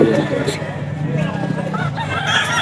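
A gamecock rooster offered for sale crows and clucks nearby amid a market crowd in Bocaue, with someone talking over the bird calls and background chatter.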